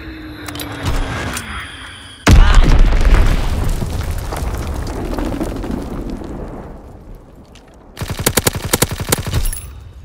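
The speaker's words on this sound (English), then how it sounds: "Enemy bomb incoming. Get to cover." Enemy bomb explosions in Call of Duty WWII: a sudden heavy blast hits loud and close, rumbling and debris-scattered as it fades, then a rapid string of sharp bangs or gunfire erupts near the end.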